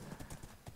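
In the video game Minecraft, quick horse hoof clip-clops patter in a steady, rhythmic gait, faint and brief against a soft background hiss.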